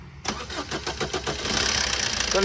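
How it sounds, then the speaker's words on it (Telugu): A Maruti Swift Dzire VDi diesel car engine cranks briefly with a rapid chugging rhythm, then catches and settles into a steady, close idle. "ఇప్పుడైతే ఒకసారి వెహికల్ స్టార్ట్ చేసి చూపిస్తాను"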